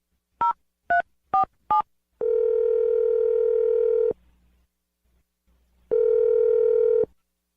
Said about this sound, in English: I'm going to dial Ryder's phone number.